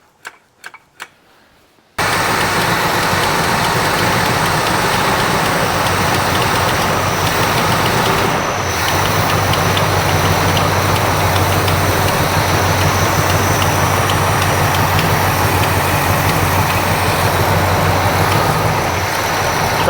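After a few sharp clicks, an International Scout engine roars to life with its throttle stuck wide open, running at a loud, steady high rev close by for the rest of the stretch.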